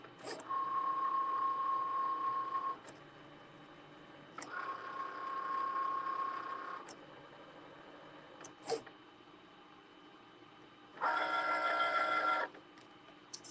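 A Cricut cutting machine cuts two rectangles, with close mechanical whirring passes, a steady motor tone, sharp clicks between moves, and a final louder buzzing run, no talking.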